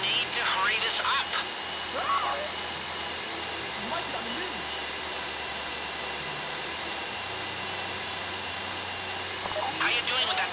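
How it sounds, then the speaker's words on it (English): A drill grinds steadily into a safety deposit box during a heist in Grand Theft Auto V, a constant high whine lasting throughout with brief voices breaking in near the start and end. "Go in your bag, get out the drill."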